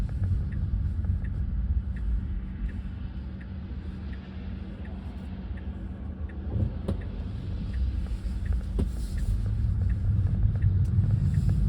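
A car drives and turns through city streets in Lviv, heard from inside the cabin as a steady low engine and road rumble with faint clicks, no talking, swelling slightly toward the end.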